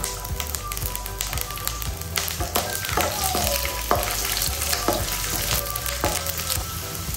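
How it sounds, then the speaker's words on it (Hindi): Garlic and cinnamon pieces frying in a pan for a home-style Indian kadhi paneer, giving a steady, close sizzle with occasional light taps and scrapes of stirring throughout. "तो इन्हें अब हम अच्छे से फ्राई कर लेंगे और साथ ही मैं डाल दूंगी थोड़ा सा गार्लिक।"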